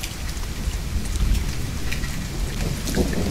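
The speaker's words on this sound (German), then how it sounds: "Ich höre Regen, ich sehe zwar keinen, aber ich höre Regen. Und es donnert." Steady rain patters continuously in the forest survival game The Forest while low thunder rumbles underneath, a dense, even storm with no speech.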